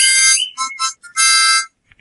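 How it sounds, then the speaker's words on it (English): A parakeet whistles loudly and close by, giving a bright, piercing whistle in several bursts with short gaps and a long sustained final note, heard alone. "that's a parakeet"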